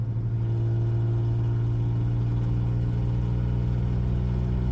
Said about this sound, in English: if pushed hard enough, it can pass a Ford pickup truck